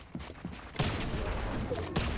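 SMG fire in a video game arrives as two loud bursts of rapid shots against a busy background din, with faint softer shots before them.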